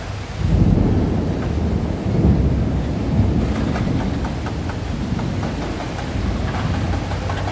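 Heavy rain pours steadily while deep thunder rumbles loudly through it, the roar swelling and easing in waves, close and enveloping, during a search of a collapsed building's rubble.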